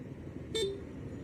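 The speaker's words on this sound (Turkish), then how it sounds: "Bunda kornası daha mı çirkin?" A single short, thin horn toot from a Honda ADV350 scooter sounds once over a low steady engine hum, close by and brief.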